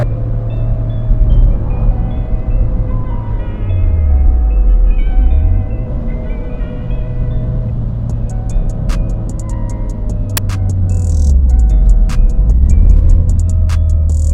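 A Toyota MR2 drives through stop-and-go traffic, its engine rumbling steadily at close range while the revs rise and fall in slow swells, with faint ticking clicks toward the end and no talking.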